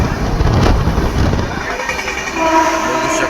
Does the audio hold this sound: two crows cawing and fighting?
no